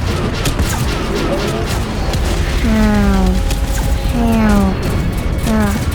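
Gunfire in the Roblox game Base Attack: bursts of shots and booming impacts with rising tonal game effects repeating several times, loud and close, mixed with background game noise.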